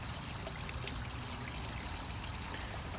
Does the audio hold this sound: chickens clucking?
no